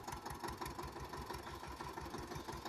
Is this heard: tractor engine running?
yes